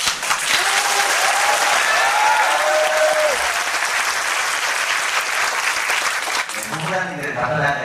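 An audience at a Jeju National University student council policy debate breaks into loud, sustained applause. The clapping holds steady for several seconds, then drops away as a voice begins speaking.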